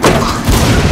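A flashbang grenade goes off in the tactical shooter Rainbow Six Siege: one brief, loud, close blast with a heavy thud and a ringing, crackling tail.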